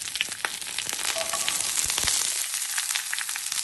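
Shallots, ginger and green chili hitting hot oil with curry leaves, a loud dense crackling sizzle right up close, spitting and popping continuously before easing slightly toward the end.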